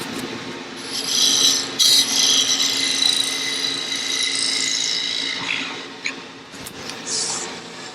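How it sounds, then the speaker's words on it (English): A skew chisel held flat as a scraper rubs against a spinning wooden lidded box on a lathe, giving a continuous close scraping hiss with brief lighter catches toward the end. "Just going to use a skew as a scraper here to clean up the surface a little bit."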